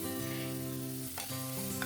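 Onions, with garlic, chilli and spices, hit hot oil in a pan with a loud, constant sizzle that fills the short stretch, with a brief stir-like rustle near the middle and no talking.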